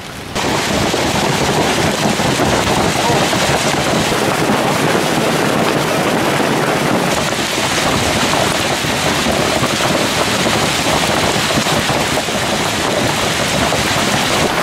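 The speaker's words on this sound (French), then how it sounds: "Ce n'est pas de la pluie, c'est des grelons, gros comme des balles." Heavy hailstones as big as balls pour down in a mountain storm, a dense, loud, continuous roar of hard impacts with wind and possible thunder underneath, no voices.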